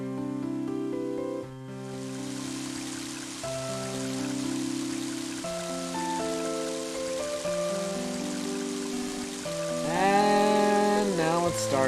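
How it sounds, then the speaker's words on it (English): Steady rain hiss falls in the video game Mother 3, spreading evenly beneath a melodic chiptune-style soundtrack and continuing throughout. "And now it's starting to rain."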